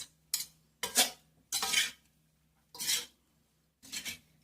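Tomato rice mixed in a pot with a metal spoon, five or six separate scraping, clinking strokes with short silent gaps between them, close and clear.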